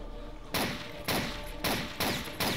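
Bursts of gunfire ring out in the shooter game Blade of Agony, five heavy volleys arriving at irregular intervals roughly half a second apart, fairly quiet and with no talk over them.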